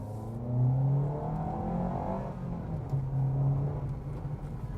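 A JAC car, a Chinese model with a rear torsion beam and Chinese tires, drives along a road with a steady low engine hum that swells with light acceleration and then settles, heard from inside the cabin.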